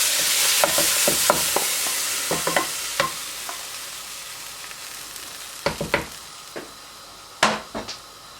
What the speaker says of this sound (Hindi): ये देखिए इस बघार को आप इस तरीके से दाल और गोश्त उस पर कबाब पर डालते हैं।